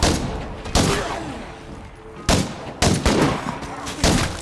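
Heavy weapon fire in the zombie survival video game State of Decay 2, five loud booming shots at irregular intervals, each decaying into a long rumbling tail, close and dominant with no talking.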